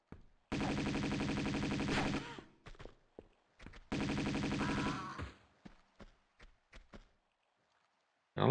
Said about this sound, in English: I like the Uzis for this, but they do not have enough killing power